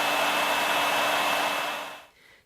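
A hairdryer blows air in a steady, loud, close whoosh with a faint whine running through it, then cuts off abruptly near the end, leaving a low trailing rush.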